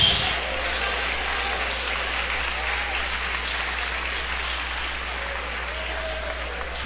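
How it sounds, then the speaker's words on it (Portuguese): A church congregation applauds in a steady, even wash of clapping that fills the room and slowly tapers off over several seconds, with a faint voice or two underneath. "Eu quero ouvir palmas misturado com glória a Deus."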